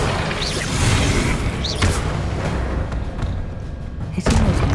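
Incendio fire spell cast in Hogwarts Legacy, heard as loud, booming bursts of whooshing flame, one right after another with a sharp crack near the end, with no talking.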